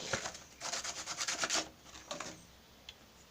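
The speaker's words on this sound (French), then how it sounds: "Vous poncez tout votre bouchon" Hand sanding of a cork: several bursts of gritty rubbing strokes close by, then a pause and a couple of shorter scrapes.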